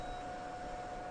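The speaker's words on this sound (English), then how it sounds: "I hear all these beep boop beep boops, but what the hell is making that noise?" Electronic beeping in the video game Metal Gear Solid 4, a steady thin high tone sustained over a constant background hiss, faint and alone.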